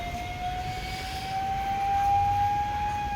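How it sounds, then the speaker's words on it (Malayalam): A passing ambulance siren holds a steady, piercing tone that rises slightly in pitch, over a broad outdoor traffic rumble, with no voices. "ഒരു ആംബുലൻസ് പോകുന്നു"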